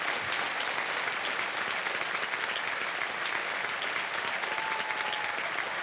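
A studio audience at a celebrity quiz-show taping applauds steadily and warmly, an even wash of many hands clapping that holds for several seconds without a break or any voice on top.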